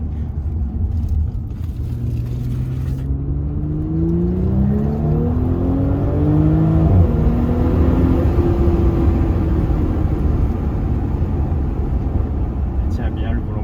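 An Audi S5 Sportback accelerating hard, its engine note climbing smoothly through the revs as a loud, steady roar with rising tones and a shift, heard from inside the car over constant road rumble.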